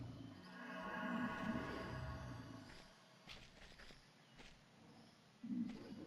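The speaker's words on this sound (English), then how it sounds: "These are Attis's version of cows, in my opinion." Cow-like game creatures in the MMO Ryzom moo in low, drawn-out calls, with one near the start and another toward the end over a soft ambient bed, and faint footsteps in between.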